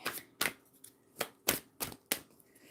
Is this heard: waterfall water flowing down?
no